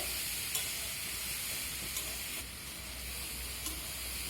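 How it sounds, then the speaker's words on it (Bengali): Soaked mung dal is stirred into raw papaya frying in a pan, making a faint steady sizzle with a few soft clicks from the stirring utensil. "ডালটা দেওয়ার পরও আমি আবারও একটু নেড়ে চেড়ে নেব"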